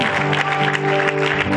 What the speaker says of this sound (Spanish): désele aplauso al Señor